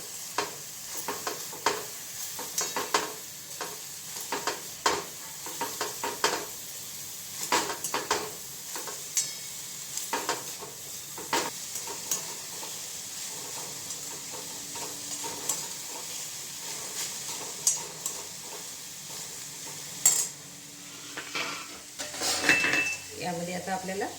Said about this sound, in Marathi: आता याला छानपैकी परतून घ्यायचं आहे